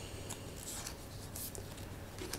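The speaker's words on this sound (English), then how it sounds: "Shifting cards around here a bit." Yu-Gi-Oh trading cards being shifted around by hand, soft close slides and brief rustling flicks over a constant background hiss.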